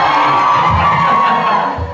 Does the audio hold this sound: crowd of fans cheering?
yes